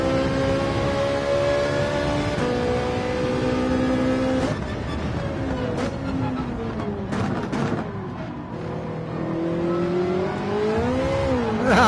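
A Ferrari engine racing in Gran Turismo 7 roars continuously, rising in pitch through gears with several abrupt shifts and sharp pops, loud and close throughout.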